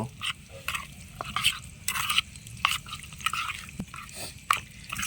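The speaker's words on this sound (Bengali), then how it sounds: "এবার এটা আমি ভালো করে মিশিয়ে নেব" Salt and turmeric being stirred into a thick eggplant pickle paste, with wet, sticky squelches and soft scraping that come in irregular bursts, close up and fairly quiet.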